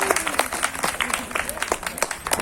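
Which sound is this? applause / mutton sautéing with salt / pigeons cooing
applause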